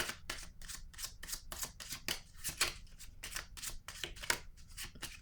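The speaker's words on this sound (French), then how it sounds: "Je vais piger une carte sur elle" A deck of cards shuffled by hand in quick riffling bursts, a rapid run of crisp close flutters and snaps with no talking.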